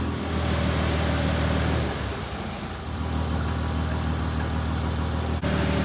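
Car engine idling while warming up during cooling-system air bleeding with a radiator funnel, a steady close low rumble running without pause throughout.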